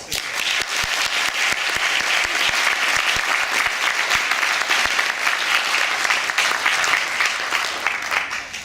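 A hall audience at a 2019 school eloquence contest final gives Aurélien sustained, vigorous applause, dense and loud throughout with crisp individual claps punctuating the roar.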